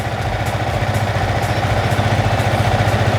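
A Yamaha XSR 155 motorcycle engine idles steadily at close range, a low even putter that holds for a few seconds without talk.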